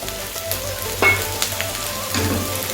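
Chopped onion and about 1.5 inches of minced ginger fry in a pan for a chicken dish, giving a steady low sizzle with a low hum beneath and a few scrapes as the mixture is stirred.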